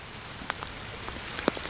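Steady rain falls on a garden of earthworks with mulch, buried wood and catchment basins beside a full pond, a close, even patter broken by a few louder individual drops.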